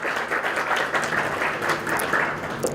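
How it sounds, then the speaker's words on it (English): Audience at a convention applauding a speaker called to the stage, a steady wash of clapping for the whole stretch at moderate loudness. "Please give him a big round of applause."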